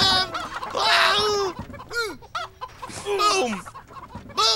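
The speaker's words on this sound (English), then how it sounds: "Look at all the chickens! There's so many of them!" Many chickens cluck loudly and close, in busy overlapping bursts and squawks that rise and fall with short gaps between calls.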